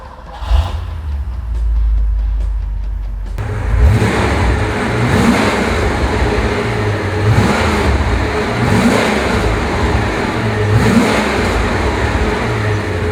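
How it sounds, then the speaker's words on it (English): A 1980 Porsche 928 V8 idles with a low burble, then revs again and again in a steady rhythm of loud throttle blips roughly every two seconds, close up and with no voices. "they make this great sound because they're V8s"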